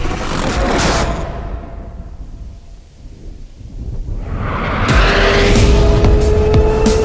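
Hyundai RN22e electric rolling-lab car cornering hard with N-specific regenerative braking, a loud continuous road and motor roar that dips briefly midway then swells back, with tire noise, alone without voices.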